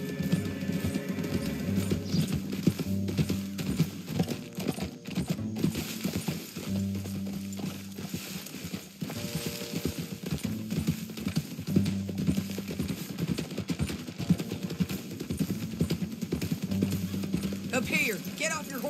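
Horse hooves clip-clop at a steady, rhythmic pace on the trail in Red Dead Redemption 2, fairly faint and continuous under droning music, with a brief whinny and faint tack rattling.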